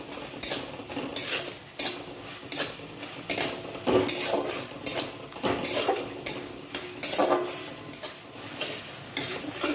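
Masala for paneer curry is stir-fried in a pan with rhythmic, repeated utensil scrapes and clanks over a soft background sizzle, the strokes coming close and regularly.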